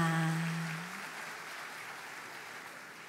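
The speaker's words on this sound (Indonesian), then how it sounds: "Tepuk tangan dulu buat kita semua" After a brief tonal sound at the start, soft, distant applause from the audience at the opening ceremony of an Indonesian foreign policy conference carries on as an even, low wash.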